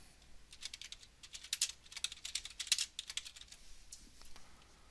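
A computer keyboard is being typed on as a description is entered, with quick irregular clusters of close keystrokes in bursts over about five seconds and no talking.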